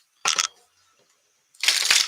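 Playing cards shuffled for a Marvel Champions card game, heard as two quick riffling bursts separated by a brief pause, the second longer and fuller, close and fairly loud with no talking.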